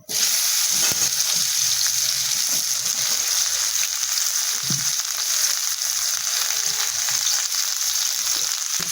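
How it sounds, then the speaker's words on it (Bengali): Steady, loud sizzling of pointed gourd pieces frying in hot oil in a wok, a constant crackling hiss throughout with faint stirring underneath. "তেল গরম হয়ে গেছে কড়াইয়ের মধ্যে আগে একটু নুন দিয়ে নিলাম পটলগুলো সব দিয়ে দিলাম"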